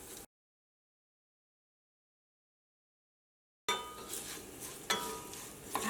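Ginger frying in a pan for puli inji gives a soft sizzle with light stirring and the scrape of a spoon against the pan. A short gap of silence cuts in before the sizzle picks up again.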